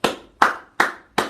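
Four loud, close hand claps in an even, slow rhythm, each a sharp crack with a short decay and silence between.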